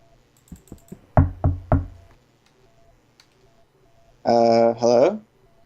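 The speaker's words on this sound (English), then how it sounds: "maybe I should knock on the door" Knocking on a door in the Minecraft Tekkit video game: a few quick soft taps followed by three louder, evenly spaced knocks, with a synthesized voice-like tone afterward.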